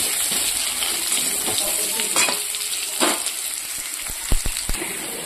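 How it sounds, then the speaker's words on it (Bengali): Potatoes fry in a pan with a steady close sizzle, broken by stirring scrapes and a few sharp utensil clicks toward the end. "আর এদিকে বসিয়ে দিয়েছি আলুটা। আলুটা একটু ভেজে নেব"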